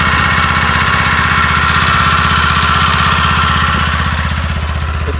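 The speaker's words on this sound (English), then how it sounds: "Here's what the motor sounds like. We'll let it warm up for a second." A brand-new 2024 Kawasaki Eliminator cruiser motorcycle idles while warming up, its engine a loud, steady, close throbbing pulse that holds an even rhythm throughout with no talk.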